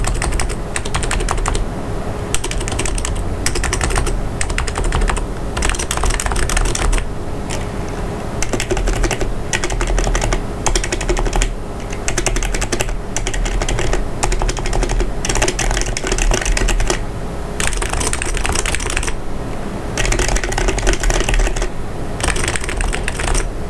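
Steady, rapid typing on a Wearnes BTC 7150 rubber dome keyboard with sliders, soft muffled keystrokes, close and continuous with brief pauses, no voices.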